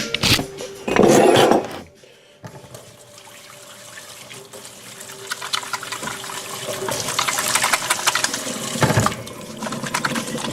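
Tap water runs into a sink for hand washing with soap: a short loud gush, a pause, then a steady rushing stream that builds and continues to the end.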